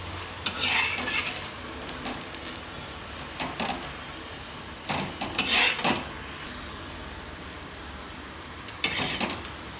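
A sesame-jaggery tilgul poli roasts in a kadhai, giving a steady low sizzle under occasional scraping and clinking of a spatula against the pan, heard close up.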